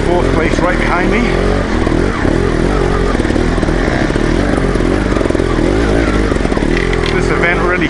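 Loud, continuous dirt bike engine noise at high revs during a hare scramble race, droning and buzzing close by, with other bikes blending into the roar.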